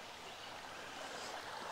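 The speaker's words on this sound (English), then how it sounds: "Pretty nice little creek I found myself dispersed camping next to." Jack Creek runs beside a dispersed campsite in Arkansas's Ouachita National Forest, giving a soft, continuous babble of flowing water, steady and fairly quiet with no voices.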